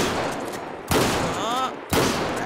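Two sharp, loud blasts of a shotgun firing pellet shells in the video game GTA 5, about a second apart, each with a short ringing tail and no talking.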